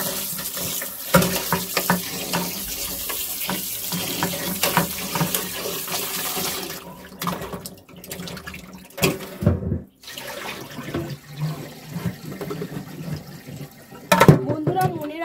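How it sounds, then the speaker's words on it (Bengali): Tap water runs and splashes while goat meat is washed in a kitchen sink, a continuous gush broken by pauses, clatters and handling noises, with a voice heard at times. "প্রথমে আমি মাংসটাকে খুব ভালো করে ধুয়ে নেব"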